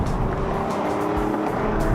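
A Hyundai Genesis Coupe's V6 engine roars continuously under hard acceleration, loud and close with a dense, steady growl and no talking.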